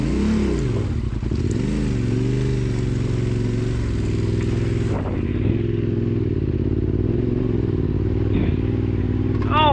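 Off-road motorcycle held on steady throttle across rough desert wash terrain in Nevada, a loud continuous engine drone with rising and falling pitch and some clatter from the bike over bumps.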